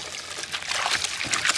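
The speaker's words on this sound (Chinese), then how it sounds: "倒入大汤" Broth pours into a pot of cleaned pork intestines, a brief close splashing gush with bubbling trickles and no voices.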